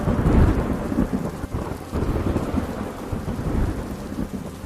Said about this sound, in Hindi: फिर जोर से बारिश होने लगी।